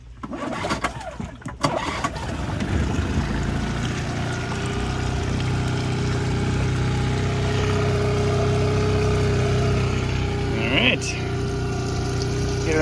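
An old outboard motor on a dinghy at a dock sputters into life after brief handling noises, then settles into a steady, continuous running drone close by.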